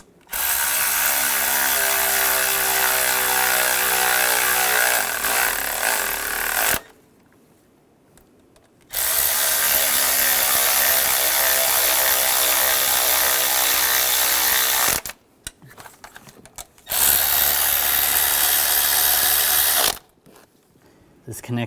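A ratchet tightens bolts on the intake manifold of a 2006–2009 Mercedes-Benz E350 with the 3.5L V6. Loud, close, rapid pawl clicking runs in long bursts, broken by several quiet pauses.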